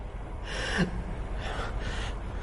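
A person gasps for breath in a few short, ragged pulls of air, close and fairly quiet, with no other sounds.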